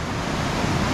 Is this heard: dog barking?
no